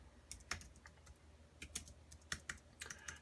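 Quiet, close typing on a computer keyboard, irregular clusters of sharp key clicks with brief gaps between them.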